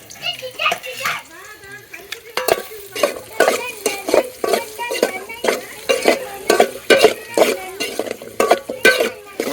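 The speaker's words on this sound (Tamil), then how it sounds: "அதுக்கடுத்து இப்போ வந்து வெங்காயத்தில் வறுக்க போகிறாங்களாட்டு இருக்குது" Onions fry and get stirred in a pan, making rhythmic scraping strokes and a sizzle while a person talks over much of it.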